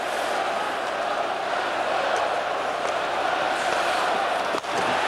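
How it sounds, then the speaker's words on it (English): Hockey crowd in an NHL playoff Game 7 arena, Dallas Stars at Vancouver Canucks, reacting to a hit: a steady, broad roar of many voices that holds loud throughout the moment, with a sharp thud near the end. "crowd reacting to a hit by Cowan behind the play"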